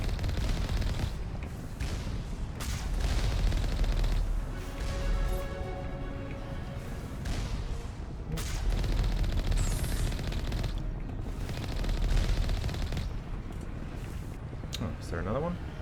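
Turrets in Mass Effect 1 open fire together in a dense, continuous barrage of automatic gunfire, loud and close, with bursts swelling and fading over dense game noise.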